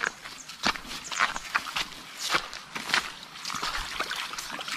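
Footsteps crunch along a riverbank near a spring in Laurel, Batangas, in an uneven walking rhythm of close, moderately loud steps with faint trickling water underneath.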